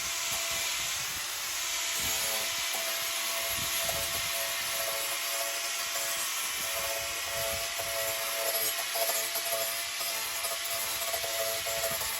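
A cordless battery angle grinder fitted with a very coarse disc carves into wood, giving a steady, harsh, high whining roar that runs for the whole stretch with no speech.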